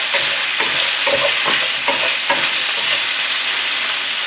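Vegetables stir-frying in a hot pan for an Asian beef stir fry, a steady close sizzle with several quick stirring scrapes and tosses through the middle, no one talking.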